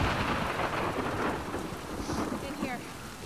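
Thunderstorm with steady heavy rain and rolling thunder in the video game The Last of Us Part II, a loud continuous wash of rainfall with deep rumbles underneath and no voices.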